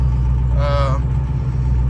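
A Ford 6.0 Powerstroke diesel truck idling with a steady low rumble close by, briefly overlaid by a short voice-like tonal sound.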